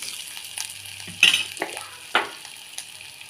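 Onions sizzle in a pan on low heat for chana masala while a spoon stirs and scrapes them in a few sharp strokes, close up, over a soft frying hiss.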